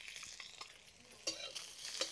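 Eggs fry in a pan with turmeric, red chili and finely chopped garlic, giving a faint, steady sizzle broken by several scraping stirs of a spatula, close and quiet with no talking.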